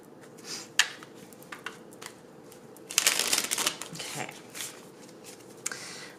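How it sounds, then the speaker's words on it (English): A tarot deck shuffled by hand, soft riffling and flicking of cards in close, quiet bursts with one louder riffle midway, and someone speaking softly alongside. "I'm going to clarify with another tarot deck. I'm just going to give it a little shuffle here."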